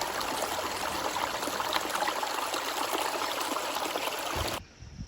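A small creek bed in the Wasatch Front mountains of Utah flows with a steady, close trickling and babbling of water that runs on without a break, then cuts off abruptly near the end.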